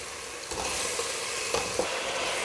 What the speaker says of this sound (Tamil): சிக்கன் சேர்த்து நல்லா மிக்ஸ் பண்ணிவிடுங்க. நல்லா 1-2 நிமிஷம் நல்லா வதக்குங்க.